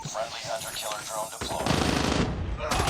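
Rapid automatic gunfire from a Call of Duty video game, loud and continuous bursts of shots, preceded by a moment of a voice before the shooting takes over.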